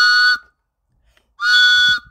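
Two loud, sustained blasts of a shrill hand whistle at a street demonstration in Feussap, separated by a second of near silence.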